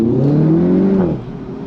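A car fitted with a Racingline R600 performance airbox revs up loudly and close, the engine note rising and holding before dropping off suddenly as the revs fall away, with no voices over it.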